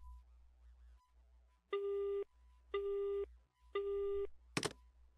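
A telephone busy signal after a call is cut off in the video game The Crooked Man, three evenly spaced long beeps close and clear, with a short sharp noise burst at the end.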